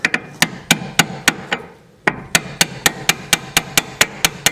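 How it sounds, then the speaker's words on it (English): A hammer drives a punch against a bolt on Subaru WRX STI suspension, giving a series of sharp metallic strikes in a fairly steady rhythm, with a brief pause partway through before the blows resume. "So what I'm gonna do is take a punch, hammer and punch, push it back a little bit"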